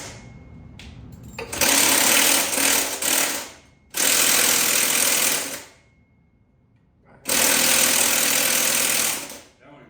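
Three loud, sustained bursts from an electric impact wrench hammering a bolt loose during a motorcycle build, each burst lasting about two seconds with brief quieter gaps between them.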